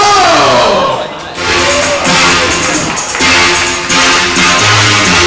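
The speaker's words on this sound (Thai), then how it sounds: "ขอเสียงปรบมือดังๆต้อนรับสาวบีโม" A crowd cheering and clapping to welcome performers at a grand opening, loud whoops and shouts over clapping that dip briefly near the start, then surge again.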